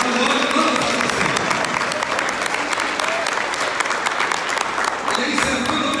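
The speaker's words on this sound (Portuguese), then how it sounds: "você pode aplaudir ao Senhor mais uma vez" A church congregation applauding together during a sermon, loud dense clapping sustained throughout, with voices mingled in the background.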